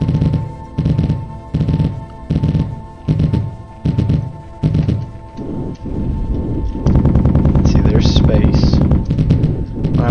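Bursts of weapon fire in the video game Gimbal come in regular, loud, booming volleys that overlap into a sustained heavy barrage with crackling high bursts toward the end.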